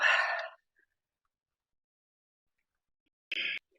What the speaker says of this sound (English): Big breaths. Do you hear me breathing?